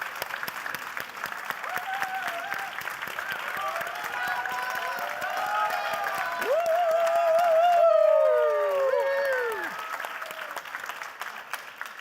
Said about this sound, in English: a big round of applause and a warm welcome for them